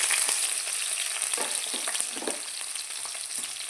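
Onions and green chillies fry in about three spoons of hot oil, a dense, steady sizzle with crackling and light stirring throughout, close and fairly loud with no talk.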